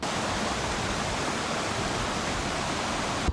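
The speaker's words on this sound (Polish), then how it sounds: "Niestety ścieżki w takiej pogodzie zmieniają się w strumienie i wodospady." Rainwater rushes down a muddy hiking trail on Kauai's Kalalau Trail in streams and small waterfalls, a loud, continuous broadband roar with no break.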